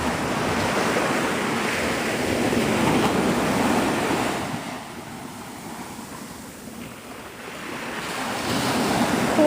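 Surf rolls and breaks on the shore at Navarre Beach, Florida, a continuous loud wash of waves with wind buffeting the microphone, easing briefly midway before building again.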